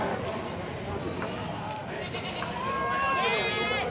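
Goats at a busy Philippine goat market let out a few wavering bleats, with one clear drawn-out call near the end, over constant crowd chatter and people talking nearby.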